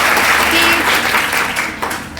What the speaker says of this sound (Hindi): के लिए तालियां